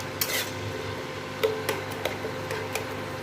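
A spoon stirs an eggplant curry with tamarind water in a metal pot. Several light, sparse clinks and scrapes sound over a low simmer, with no talking.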